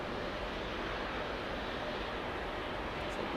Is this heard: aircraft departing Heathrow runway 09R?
yes